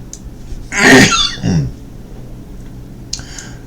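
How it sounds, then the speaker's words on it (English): A single loud, close sneeze with a sharp burst and short trailing exhale, followed by quiet room tone and a faint later rustle. "Got a little sneezing going on here."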